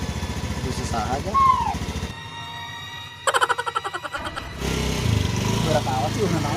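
A motorcycle engine starts and sputters in a short rhythmic burst partway through, set among loud, busy voices talking in a village setting.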